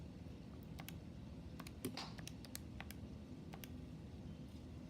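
Scattered keystrokes on a computer keyboard tap out in short irregular bursts, faint and close, over a quiet room hum with no talking.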